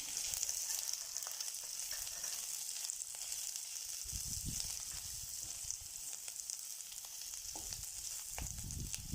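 Long-sliced onion sizzles in hot oil in a pan, a steady soft hiss with occasional stirring scrapes and a few louder clatters, heard close with no talking.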